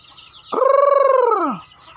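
A single loud rooster-like call from a chicken, rising then falling over about a second, close by, with faint background noise before and after.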